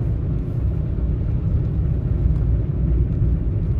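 A car rolls along a road with a steady, loud low rumble of engine and tyres, constant from start to finish with no voices.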